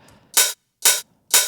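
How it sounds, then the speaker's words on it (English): Three open hi-hat hits, panned dead center in a tech house drum mix, ring out in an even rhythm, each a bright, crisp sizzle with a short decay and silence between. "this open hat I placed it in dead center."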